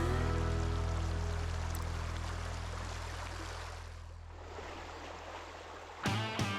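Steady rushing of an Alaskan river at night, broad and continuous, fading slightly toward the end before a brief louder noise.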